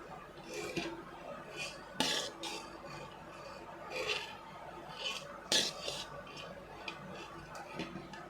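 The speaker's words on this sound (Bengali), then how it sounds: "এবার দিয়ে দিচ্ছি ভাত, দিয়ে নেড়েচেড়ে মিশিয়ে নেব ভালো করে।" A spatula or spoon scrapes and taps against a pan as rice is stirred into chicken fried rice, making irregular clinks and scrapes at close range with a few sharper knocks.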